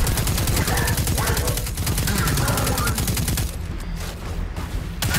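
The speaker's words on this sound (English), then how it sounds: "submachine gun" A submachine gun fires in the shooter Destiny 2 as a loud, continuous burst of rapid shots that rattles for several seconds and then tapers off, with a voice talking over the gunfire.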